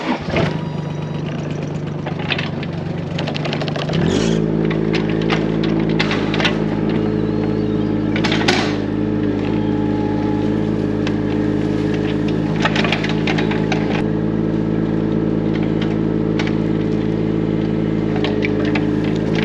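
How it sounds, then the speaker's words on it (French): A mini excavator starting up and running on a building site before digging, its diesel engine settling into a loud, steady drone with occasional clanks and knocks from the machine. "Pour ça bon bah direction mini-pelle, on creuse et puis après on coule tout ça."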